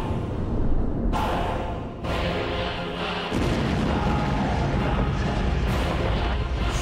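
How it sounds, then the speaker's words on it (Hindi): A loud, roaring blast from a large explosion on a bridge linking Russia to Crimea rumbles and crackles continuously, heavy and booming, with a sudden surge in intensity partway through. "जब रूस को क्राइमिया से जोड़ने वाले पुल पर बहुत बड़ा धमाका होता है"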